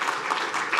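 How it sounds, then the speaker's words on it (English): Audience at an EU open source policy summit panel on cloud and AI applauding a guest, a short continuous burst of many hands clapping, fairly loud. "Yes, a round of applause."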